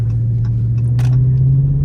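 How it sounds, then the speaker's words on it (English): A Dodge Charger under hard acceleration, its engine a steady, loud low drone with a deep rumbling tone heard from inside the car for a brief moment. "Now she's gonna know that I hard accelerated."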